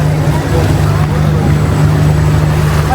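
A constant low motor hum from cargo boats on the river by Wat Arun, Bangkok, runs steady and close, with wind and faint voices mixed in.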